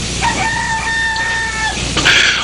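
A rooster crows once in a long, clear cock-a-doodle-doo with steady harmonic tones, close and loud over a background hum, followed by a brief scuffling rustle.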